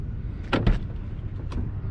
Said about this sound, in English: Every door closes as it should,